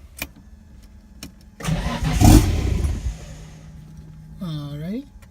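A Datsun 240Z with a swapped RB20DET engine cranks, fires into a rough rumble for about a second, then dies away, followed by a rising whining tone; a person talks faintly nearby.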